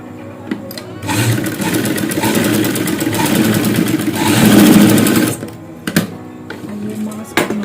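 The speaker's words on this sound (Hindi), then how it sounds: "यहाँ से इसको इसी तरीके से इलास्टिक को सिलाई लगा दें।" A sewing machine stitches elastic onto a cloth mask, whirring loudly and steadily for about four seconds before stopping, then giving a few short stitching bursts.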